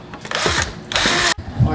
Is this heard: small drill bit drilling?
yes